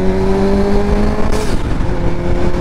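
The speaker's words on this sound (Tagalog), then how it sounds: "At ang sarap sa tenga ng inline 4." A Suzuki GSX-S750 inline-four motorcycle engine revs loud and close, its steady whine shifting pitch partway through.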